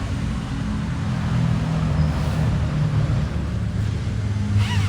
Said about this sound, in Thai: ในทอแต่งทรง SC นะครับ เสียงเพาะๆลั่นๆ กันเลย